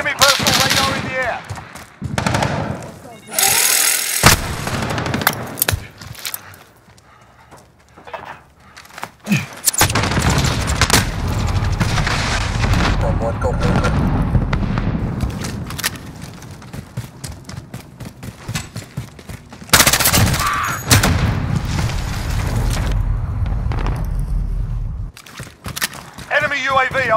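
Gunfire from Call of Duty: Modern Warfare, with loud bursts of automatic machine-gun fire and single shots. The firing comes and goes over about half a minute, with quieter gaps between heavy volleys, and game voices speak through it.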